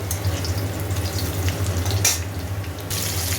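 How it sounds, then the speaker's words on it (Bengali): Potatoes fry in a pan with whole cumin seeds and bay leaf, a constant close crackling sizzle over a low hum, with a brief louder burst as the pieces are stirred. "গোটা জিরে তেজপাতা ফোড়ন দিয়ে আলুগুলো দিয়েছি। আলুগুলো একটু ভেজে নিচ্ছি"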